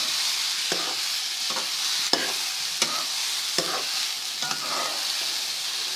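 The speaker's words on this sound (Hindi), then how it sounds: "यहाँ पर ये मैं किशमिश और खोपरा भी शामिल कर रही हूँ, और इसको अच्छे तरीके से थोड़ा सा भून लूँगी" Halwa with raisins and coconut roasting in a pan, a steady bright sizzle with periodic soft scrapes of a spoon stirring, close and continuous with no talking.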